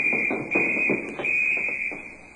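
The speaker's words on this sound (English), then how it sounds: "The old woman must have turned in an alarm." In a science-fiction radio drama, a loud, continuous high-pitched alarm rings steadily throughout. Faint voices can be heard beneath it.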